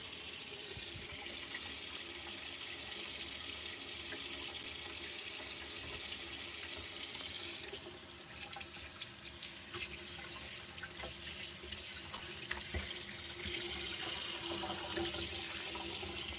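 Water runs from a tap into a sink for washing up, a steady hiss of flow that continues throughout, becoming splashier and more broken partway through as things are handled under the stream.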